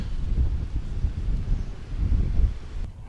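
Steady low wind rumbles and buffets continuously across the whole clip at a fishing spot, with gusts swelling louder near the end.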